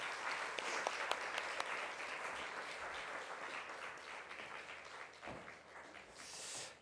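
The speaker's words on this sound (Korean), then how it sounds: "인사하고 들어가실 때 우리 큰 박수로 축하하겠습니다" A church congregation in a Korean church in Chile applauds graduates of a faith-growth class during Sunday worship, a steady roomful of clapping that holds for several seconds and fades slightly near the end.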